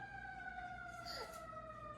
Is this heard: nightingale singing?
no